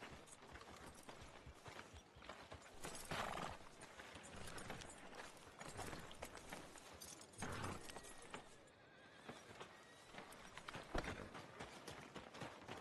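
Horse in the Red Dead Redemption 2 video game clip-clops along and gives a whinny, with hoofbeats and a neigh heard quietly in the game's soundscape, and faint voices underneath.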